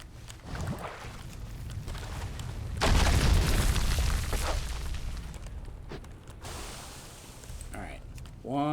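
Bomb blasts in World of Warcraft, a Demon Hunter fighting in Kul Tiras, with a loud deep booming burst mid-clip that fades into rumble, softer crashes before and after, and faint game noises around it.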